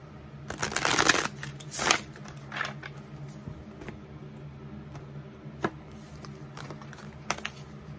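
Tarot cards are riffled in a couple of quick bursts early on, followed by soft scattered taps and clicks of cards being handled in a quiet room.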